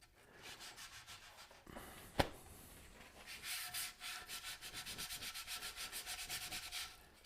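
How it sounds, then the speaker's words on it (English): A small foam sanding pad works over a walnut vase in quick rhythmic strokes, soft scratchy rubbing that pauses briefly, then resumes in a brisk steady pattern; close and quiet, no talking. "I'm going to switch over and put it on the little sanding pad."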